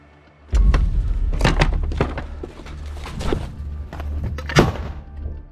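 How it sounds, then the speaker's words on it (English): A grenade dropped through a basement ventilation pipe goes off with a sudden heavy thud and a sustained low rumble. Scattered knocks and thumps continue afterward in an enclosed combat setting. "They drop a grenade inside through the basement's ventilation pipe."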